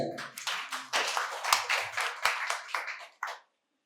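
An audience at a quiz competition at a medical college and hospital in Santiniketan bursts into clapping for a correct answer, bursts of handclaps rising and falling over about three seconds before stopping abruptly.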